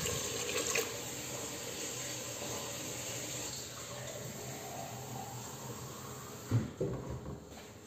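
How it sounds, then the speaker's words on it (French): Hot water is poured from a kettle into a cooking pot of meat, a steady splashing, rushing stream that runs for several seconds before a few clunks and knocks near the end, with no talking. "Là, je rajoute de l'eau."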